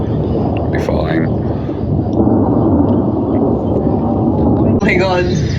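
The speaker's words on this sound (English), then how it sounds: "a storm in the valley is intense" A thunderstorm rolls through a valley on a farm as a loud, sustained rumble of thunder that fills the whole stretch, with faint voices audible beneath it.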